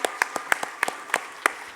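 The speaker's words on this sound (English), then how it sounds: "A huge round of applause for Mrs." An audience at a Smart Mom Contest claims a winner with sparse, separate claps, roughly eight sharp hand claps spaced at irregular intervals, close and fairly loud with quiet gaps between.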